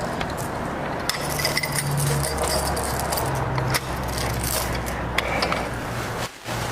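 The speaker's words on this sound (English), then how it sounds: "pull the slack out by turning the hand wheel" A come-along's hand wheel ratchet is cranked to pull slack out of a line, making a stream of close metallic clicks and scraping mechanical rattles at a steady working pace.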